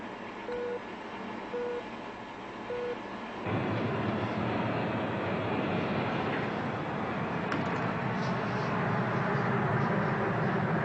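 A loud, steady engine roar of a propeller cargo plane overhead, rising sharply after a few seconds and holding throughout, with a faint tone earlier.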